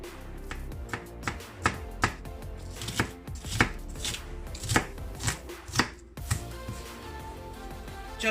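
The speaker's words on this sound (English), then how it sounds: "my husband gonna help me cut the onion" Knife chopping onion into small pieces on a board, a series of crisp, close knocks in an uneven rhythm, roughly a dozen strikes with brief pauses between.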